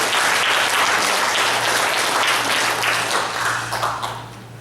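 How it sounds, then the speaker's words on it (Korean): A church congregation applauds to celebrate the 50th wedding anniversary of the retired senior pastor and his wife, with dense, steady clapping filling the room that gradually thins toward the end, under a faint low hum. "축하의 박수 한번 드립니다."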